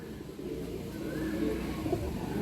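Tournament pigeons, kept in male and female pairs, coo softly and briefly against a low, steady background murmur.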